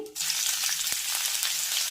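Cumin seeds, peanuts, roasted chana dal and chopped green chilli fry in hot oil for a puffed rice snack, giving a close, loud, continuous sizzle with a brief clink partway through.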